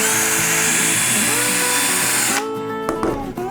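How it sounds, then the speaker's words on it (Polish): A power drill whines steadily at high speed pre-drilling into wood, then cuts out, leaving a few short bursts and clicks. "Nawiercam sobie wiertarką, żeby mi się nie rozchodziło drewno."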